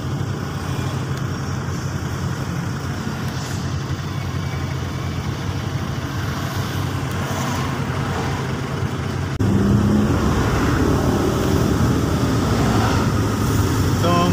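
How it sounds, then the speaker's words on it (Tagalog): Steady traffic rumble on a congested stretch of the Carlos P. Garcia Highway in Davao, with a long queue of cars and trucks idling and creeping toward the MAA junction near flyover construction; continuous engine drone that grows louder partway through. "Mahabang pila na naman ang mga sasakyan bago tayo aabot doon sa junction ng Magtuod at saka MAA"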